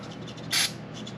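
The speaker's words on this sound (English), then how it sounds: "I'm just going to spray a little bit of carb cleaner" Carb cleaner sprayed from an aerosol can onto a Q-tip, a single short hissing burst of about a quarter second, close and fairly loud over quiet workshop background.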